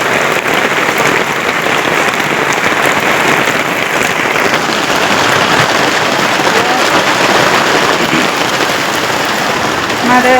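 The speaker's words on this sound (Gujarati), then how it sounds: "જો બહાર વરસાદ ચાલુ છે" Heavy rain pours outside in a village home, making a dense, steady roar of drops on surfaces that stays loud and continuous throughout, with no clear speech.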